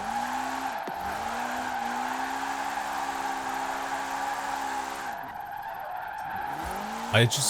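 A car in Forza Horizon 4 drives with a sustained engine drone, and long tire squeals and skids rise and fall over it, ending in a short sharp burst.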